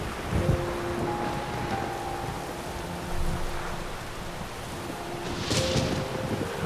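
Steady rain and wind wash through an outdoor scene in the video game Mafia II, with low rumbles like distant thunder rising now and then; no voices.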